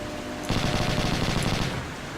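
Machine gun fire in the video game Hidden and Dangerous: one short, dense burst of rapid shots lasting just over a second, loud and close, with no speech.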